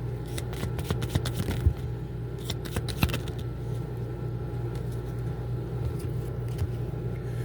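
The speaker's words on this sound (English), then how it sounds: "Shuffle these already." Tarot cards are shuffled by hand in a series of quick riffling and sliding bursts close up, separated by short pauses over a low steady background hum.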